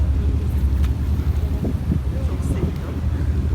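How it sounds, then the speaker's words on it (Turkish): Strong wind buffets the microphone in a steady, heavy low rumble for the whole stretch, with faint voices buried underneath, at a seaside picnic spot in Beykoz, Istanbul. "Çünkü felaket rüzgar var."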